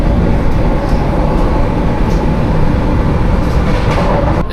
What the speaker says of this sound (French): ce sont les trains les plus rapides ici en Inde